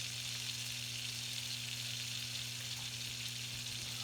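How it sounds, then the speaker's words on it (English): Salmon fillets pan frying in hot oil, a soft, steady crackling sizzle heard faintly and continuously with a low background hum and no talking. "So this is why I like to pan fry it before I throw it into the oven."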